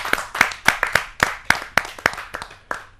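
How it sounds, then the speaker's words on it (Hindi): A small audience at a Hindi poetry gathering gives a short round of applause: about ten sharp, separate claps that come in an uneven rhythm and slowly fade, close and loud with no talk. "दोबारा तालियां"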